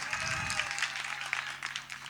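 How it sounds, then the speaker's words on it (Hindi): Audience clapping at a Hindi hasya kavi (comic poetry) gathering, a dense patter of many hands filling the space, fairly faint and steady throughout with a low hum beneath. "हाँ, एक बार ताली वाली बजाओ"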